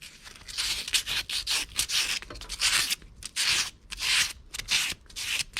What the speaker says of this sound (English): polish the bottoms of these up with a little emery cloth